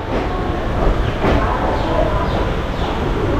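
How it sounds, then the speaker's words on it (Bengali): An express train pulls out of Sealdah station with a loud, steady rumble and clatter of carriages heard from on board, continuous throughout. "আমাদের ট্রেন 5টা 35 বাজতেই শিয়ালদা স্টেশন থেকে ছেড়ে দিল।"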